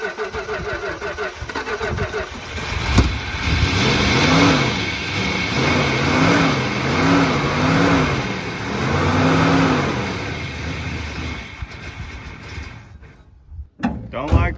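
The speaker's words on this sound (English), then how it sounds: "We're gonna see if she'll fire up after sitting all night." A classic Plymouth Fury III V8 that sat overnight cranks and fires, then runs and revs unevenly up close with surging engine tone, before cutting out near the end, while voices talk underneath.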